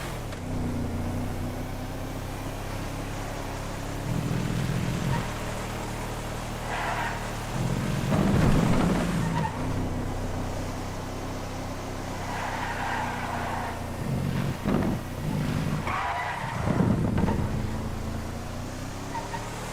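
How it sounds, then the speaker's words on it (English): A two-door off-roader car in GTA drives along with a steady engine drone, broken by several louder bursts of tyre and road noise that could be skids, with no talking. "For an off-roader car, it's actually got some pretty decent speed."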